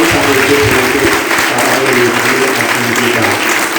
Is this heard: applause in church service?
yes